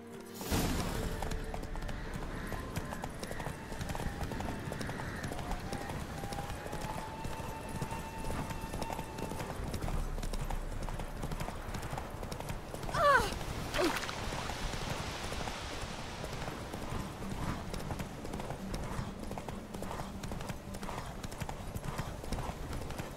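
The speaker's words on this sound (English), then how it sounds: "Oh no, horse, don't get tired now." Steady rhythmic clip-clop of a horse's galloping hooves in The Witcher 3: Wild Hunt continues throughout, with a soft patter of rain-like noise and a brief louder whoosh partway through.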